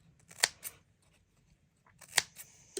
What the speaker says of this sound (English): So I've got the scissors. I'm going to cut, but not all the way.